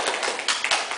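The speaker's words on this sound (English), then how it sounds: "Round of applause for both my helpers." At an illusions show, a live audience gives a short, dense burst of clapping with steady overlapping hand claps and no voices.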